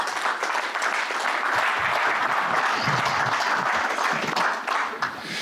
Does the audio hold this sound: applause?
yes